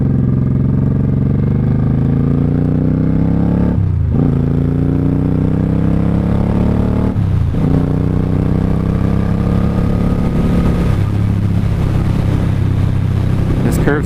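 A motorcycle ridden at speed on an open road, its engine droning loud and steady with rising pitch sweeps as it accelerates through the gears, brief dips at each shift, and heavy wind rush throughout.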